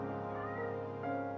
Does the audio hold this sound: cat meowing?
yes